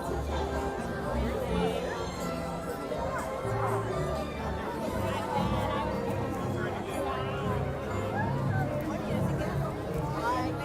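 Dense crowd chatter fills a busy store at the grand opening of the World of Disney shop, a steady hubbub of many overlapping voices with no single speaker standing out.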